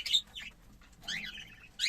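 Bright, high-pitched cockatiel chirps in short bursts with brief quiet gaps between them, fairly close and moderately loud.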